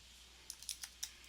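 A handful of quick, light keystrokes on a computer keyboard as a web address is typed, crisp and close but quiet, in a short irregular burst.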